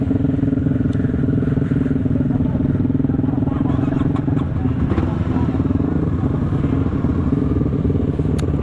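A motorcycle fitted with an FMF aftermarket exhaust idles and runs close by, giving a loud, continuous throaty rumble with light mechanical clatter, while someone talks over it.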